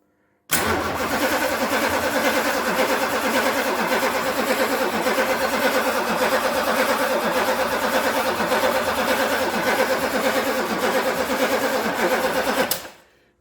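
The V10 engine of a 2007 Volkswagen Touareg churns in a loud, even, continuous drone on a starting test for about twelve seconds, then cuts off abruptly, with no talking.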